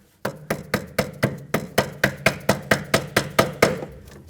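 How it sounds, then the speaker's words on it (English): Repeated tapping on a brake hose lock clip on a 2003-2008 Toyota Corolla rear brake line, about fourteen sharp, evenly spaced metallic knocks at a steady rhythm, close and clear with no talking. "and then tap this in."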